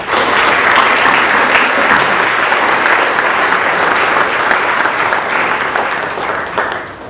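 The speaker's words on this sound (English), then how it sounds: "I think that deserves another round of applause." Loud, dense applause fills a school presentation day assembly hall, sustained at a steady level before tapering slightly at the close.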